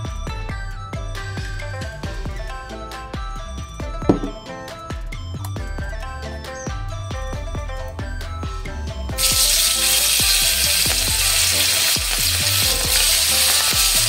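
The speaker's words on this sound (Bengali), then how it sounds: "পরে সর্ষের তেল দিয়ে ইলিশ মাছগুলোকে হালকা ভেজে নিচ্ছি।" Hilsa fish lightly frying in mustard oil sizzle steadily under background music, and the hiss grows louder and fuller partway through.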